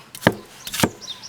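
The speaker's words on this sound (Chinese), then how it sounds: "现在要把这个蒜啊切末" Knife chopping garlic into mince on a board: two sharp, distinct chops about half a second apart, close and clear with no talk.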